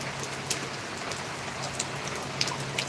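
Heavy midday rain falls in a steady, dense hiss of drops on surfaces, continuous and close, with occasional louder individual drips and no voices.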